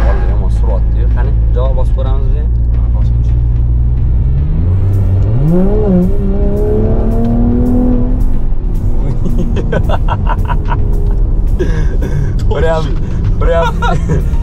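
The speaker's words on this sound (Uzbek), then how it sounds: "İçingacha urdi, motor ovozi" A Mercedes GT sports car engine revs up and rumbles loudly, pitch rising and falling, with a person talking over the engine noise.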